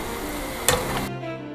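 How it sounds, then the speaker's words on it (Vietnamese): Fish balls made from leftover rice sizzle in hot oil over a low flame, a steady close-up crackle with a brief sharper burst as they are stirred, then cutting off. "Chúng ta chiên trong lửa nhỏ và đảo đều cho chả cá vàng đều nha."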